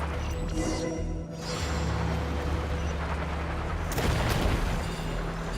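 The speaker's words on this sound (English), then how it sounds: "The cave is becoming more and more unstable. I have to hurry. More falling rocks." Falling rocks rumble in a collapsing cave in a video game, with deep continuous booming, a brief lull, then a heavier crashing burst toward the end over a low droning background.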